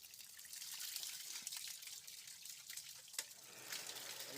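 Water flowing from a running water pump, a steady hissing trickle close by with a few small splashes and drips, no talking.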